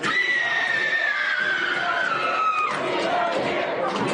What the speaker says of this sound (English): She just starts screaming like she's being stabbed to death.